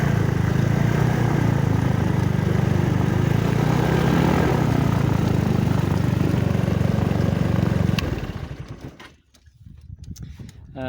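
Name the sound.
Discus 15T glider engine running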